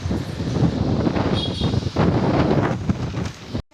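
Strong gusts of wind on a rooftop terrace buffet the microphone, roaring and rumbling in uneven surges before cutting off abruptly.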